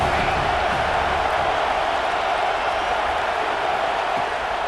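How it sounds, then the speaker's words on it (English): Stadium crowd in the college football video game EA Sports College Football 26 gives off a steady, dense wash of roaring noise that holds at an even level without distinct cheers or breaks. "This crowd bringing the energy and noise early."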